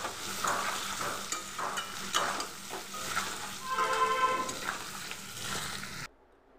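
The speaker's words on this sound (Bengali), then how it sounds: "নুন হলুদ দিয়ে আলুগুলো আমি 2 থেকে 3 মিনিট মিডিয়াম ফ্লেমে ভেজে নেব।" Potatoes fry in oil over a medium flame with salt and turmeric, a close sizzle broken by stirring scrapes, ending in sudden silence.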